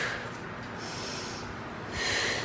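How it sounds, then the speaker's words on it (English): A person exercising does bodyweight circuit training and breathes hard. Strong, close breaths go in and out through the nose with a snorting edge across a couple of seconds, and no one talks. "So we're gonna inhale, exhale."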